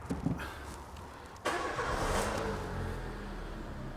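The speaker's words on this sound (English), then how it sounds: "I could start this car, and just to prove it," Peugeot car engine cranking and catching about midway, then settling into a steady idle nearby after a quiet start with faint clicks.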